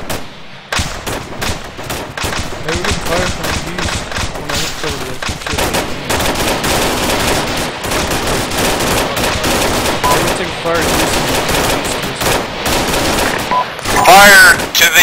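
Heavy gunfire in a military video game mission rattles almost continuously, dense bursts of automatic and single shots, loud and close, with voices calling out over it.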